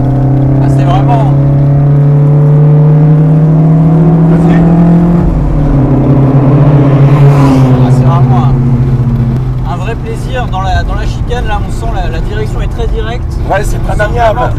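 Alpine A110 Berlinette sports car lapping the Montlhéry circuit, its engine revving loudly from the cabin with rising and falling pitch through the gears, while occupants talk excitedly over it.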